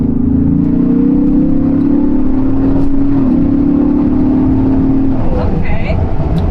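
A 2021 Ford Bronco fitted with a K&N cold air intake accelerates hard, its engine note a steady loud drone that climbs and then drops off near the end, with a soft-top cabin and faint voices underneath.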